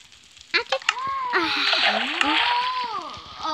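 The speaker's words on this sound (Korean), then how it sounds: "차가운 물 샤워 한번 쫙 해야지." Cold water splashes and pours over a bather in a bathhouse shower, a sustained wet hiss after a few sharp drips, while a man groans and exclaims loudly over it.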